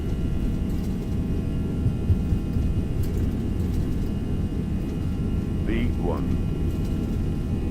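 FSLabs Airbus A321 with CFM engines at takeoff thrust in Microsoft Flight Simulator, a steady low roaring engine rumble throughout, with a voice making a brief callout over it.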